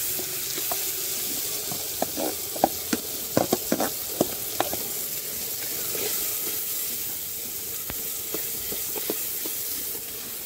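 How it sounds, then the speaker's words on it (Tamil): Raw ground masala paste sautés in oil in a village kitchen for fish curry, with a steady hissing sizzle and scattered sharp pops and spoon taps. The sound is close and no one speaks. "இப்போ அதில் போட்டு நல்லா வதக்கிக்கலாங்க."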